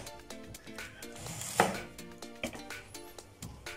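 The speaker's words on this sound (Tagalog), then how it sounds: "maggayat na tayo ng mga panghalo natin na iba" A knife chops vegetables on a board for an ampalaya salad, with a few crisp taps and one sharper cut standing out, fairly quiet against a faint tonal background.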